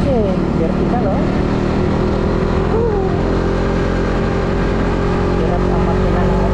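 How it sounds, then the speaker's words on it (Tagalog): Motorcycle engine labouring up a steep, rough mountain road, a steady loud drone with low harmonics that rise and fall as it strains, with faint talk in the background. "Hirap ang makina ng motor kung ito sa akyatan."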